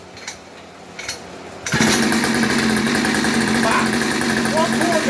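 Coolster 50cc engine catches on the first pull, a sudden loud onset after quiet handling noise, then settles into a steady buzzing run with a person's voice over it.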